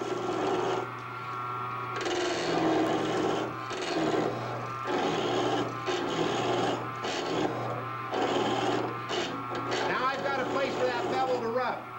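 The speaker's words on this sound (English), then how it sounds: "as it gets down just where it's going to cut, right there it's going to cut, I roll it ever so slightly, just a few degrees" A skew chisel cuts wood on a lathe while making threaded boxes, giving a steady rasping, scraping drone in repeated passes of a few seconds each over a low motor hum, with someone talking throughout.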